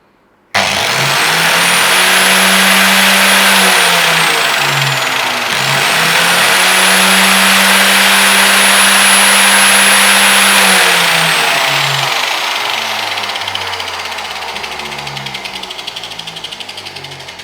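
An electric grinder switched on through an adjustable over- and under-voltage relay breaker, its motor starting abruptly and running loud and steady with a high whine, dipping briefly once and then slowly tapering as it runs on alone.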